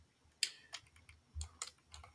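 Keys on a computer keyboard clack in short irregular taps close by, each keystroke crisp and distinct with small gaps between them in a quiet room.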